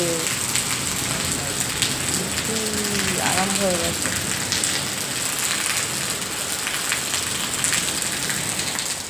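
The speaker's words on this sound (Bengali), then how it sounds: "দেখো বাইরে কি বৃষ্টি হচ্ছে" Rain falling outside, a dense steady hiss of drops at constant loudness, with someone speaking briefly over it and a short higher vocal sound in the middle.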